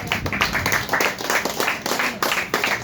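A crowd claps to welcome a guest at a gathering. The clapping is brisk and continuous with uneven bursts, fairly close and loud, and murmuring voices sit beneath it.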